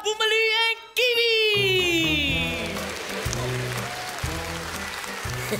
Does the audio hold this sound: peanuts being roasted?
no